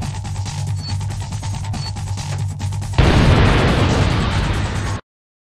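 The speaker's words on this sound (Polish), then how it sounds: "No, ładna eksplozja" A large in-game explosion in the PlayStation game Spider-Man 2: Enter Electro bursts loud and sudden, then a dense roaring rumble sustains for about two seconds before cutting off, following a steady hum of game background sound.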